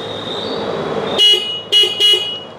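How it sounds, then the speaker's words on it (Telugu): The horn of a Hero Xtreme 160R 4V motorcycle blares in three loud, close honks, one longer followed by two short blasts, over a steady engine idle. "మీకు హార్న్ ఒకసారి అయితే వినిపిస్తాను నేను."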